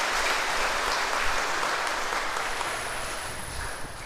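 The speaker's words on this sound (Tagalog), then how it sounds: "At bigyan natin ng malakas na palakpak ang ating Panginoon ito yung kaarawan." A congregation at a Christmas Day mass claps for the Lord's birthday, a moderately loud, continuous patter of applause that slowly fades toward the end.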